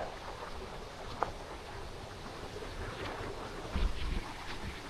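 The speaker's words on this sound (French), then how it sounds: "regarde cette magnifique cascade que je t'avais filmée pour la chaîne Philocali" A waterfall makes a steady, broad rushing roar, heard at a moderate distance with some wind buffeting the microphone and one brief knock.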